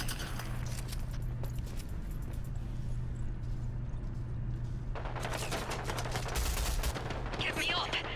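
Shotgun blasts and other gunfire in the video game Rogue Company ring out in clusters over a steady game hum, loudest in a dense burst toward the end, with footsteps and voices mixed in.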